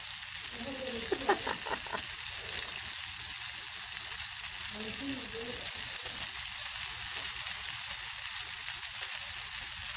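Meat sizzles and crackles steadily on a charcoal barbecue grill in a garden, a close, continuous hiss with brief voices talking over it early on and again midway.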